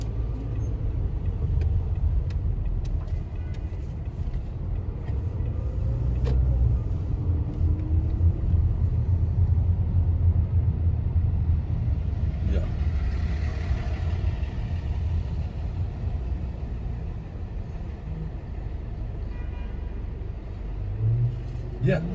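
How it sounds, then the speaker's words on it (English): A car engine rumbling from inside the moving car, a steady low drone that runs throughout beneath a person talking. "I'm just in the car right now"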